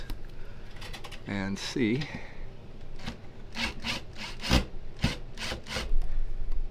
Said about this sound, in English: So we're gonna unscrew these